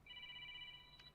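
A telephone rings faintly in a church sermon setting, giving a steady electronic tone that holds for about a second before a brief click cuts it.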